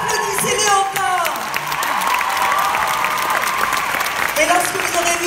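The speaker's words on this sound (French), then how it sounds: "Applaudissez-les encore." A crowd at the French Dumbo (2019) premiere applauds steadily and loudly for a few seconds, with a voice speaking over the clapping.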